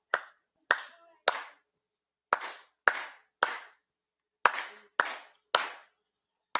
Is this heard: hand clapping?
yes